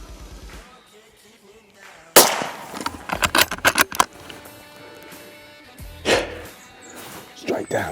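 A single loud rifle shot from a Weatherby 307 Range XP, fired at a buck about 75 yards away while hunting, cracks sharply after quiet low talk and is followed by scattered impacts and rustling.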